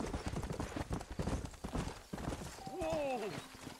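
Hooves trot in quick, even clip-clops in the Red Dead Redemption video game, close up under a voice, ending with a short horse whinny.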